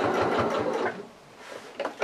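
A sewing machine stitches slowly around the curved trunk seam of a fabric toy elephant, a steady close whirring run of needle strokes that stops about midway, followed by a few brief mechanical clicks.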